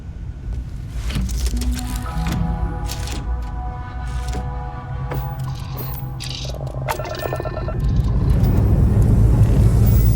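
Spaceship engine hum in the video game Starfield, a steady low drone with layered tonal whines and mechanical shifts that swell louder toward the end, with no talk over it.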